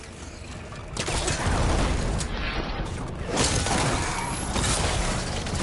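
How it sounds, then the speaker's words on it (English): Explosions in the video game Horizon Forbidden West boom and crackle in dense, noisy bursts that swell and fade over a few seconds at moderate loudness, with no talking. "That's super pretty explosions."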